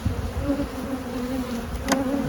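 Bees buzz in a dense, steady drone at a hive comb in fall, heard close and continuous with no voices.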